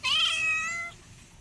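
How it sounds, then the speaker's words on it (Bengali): A cat on a rooftop garden gives a single clear, drawn-out meow, close and fairly loud, fading to quiet background. "এই বিড়াল"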